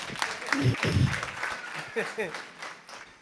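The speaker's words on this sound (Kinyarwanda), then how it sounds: "Ko mutamukomera amashyi Elvine." A crowd at a foundation event for children claps for Elvine, a brief patter of applause mixed with voices talking over and after it, moderately close.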